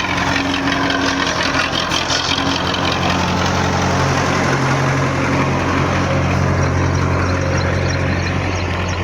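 A 1997 Belarus MTZ 50 tractor engine working under load while pulling a laser land leveler, a loud, constant low diesel rumble with a throbbing knock that continues throughout, with no talk.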